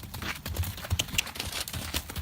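Horse trotting at a quick, pacey gait while being lunged, its hoof beats thudding in an irregular rhythm at moderate distance, with some rustling around it.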